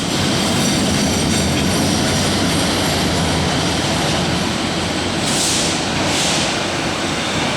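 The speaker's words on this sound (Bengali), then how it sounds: "এই ট্রেনটা হলো রংপুর এক্সপ্রেস" Rangpur Express passenger train passing beneath an overbridge, a loud, steady rumble of wheels and carriages that holds throughout, with a couple of brief hissing bursts near the end.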